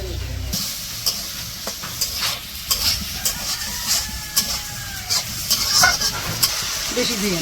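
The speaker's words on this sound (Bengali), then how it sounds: "রসুন তেলের মধ্যে দিয়ে, হ্যাঁ টমেটো টমেটো সব একসাথে দিয়ে দিচ্ছে।" Garlic, green chilies and tomatoes frying together in hot oil, giving a steady close sizzle and hiss with scattered crackles and a few clinks of stirring throughout.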